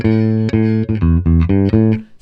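Rock bass guitar riff built on root notes, played alone with steady repeated low notes in a clear rhythmic pattern of short phrases, loud and close, ending on a fading held note.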